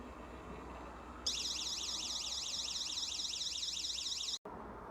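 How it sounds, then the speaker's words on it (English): A smart home window sensor device sets off its alarm: a loud, warbling electronic siren starts abruptly, sweeps up and down steadily for about three seconds, then cuts off sharply. "when the window gets close to fully open, the sensor should detect that and the alarm inside the device will go off"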